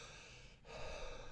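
Heavy breathing, a long breath out then a deep breath in, close and airy, imitated by a person.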